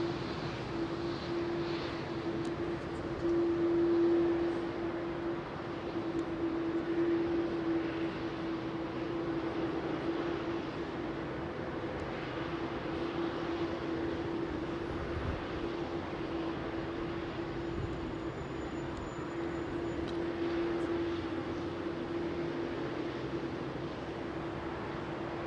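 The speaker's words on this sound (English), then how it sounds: "we've got a San Francisco bound BA A380 also taxiing out for departure" A British Airways Airbus A380 taxiing out for departure at Heathrow gives a steady, continuous engine drone with a sustained whining tone and a low rumble, heard from a distance throughout.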